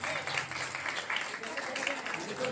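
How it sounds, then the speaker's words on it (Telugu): Congregation at the Our Lady of Rosary Church 26th anniversary in Nidamanur village applauds the priest with a steady wash of many hands clapping, continuous and fairly even throughout. "గట్టిగా చప్పట్లు కొట్టి అభినందించాలి."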